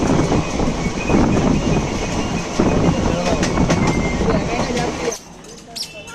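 The Raxaul Howrah Express rolling along the tracks, a loud continuous rumble with rhythmic wheel clatter heard from on board, easing off near the end, with people talking in the background.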